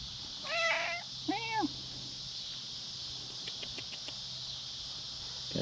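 A cat gives two short meows close by outdoors, the second soon after the first, then faint ticking clicks over a quiet insect-like background.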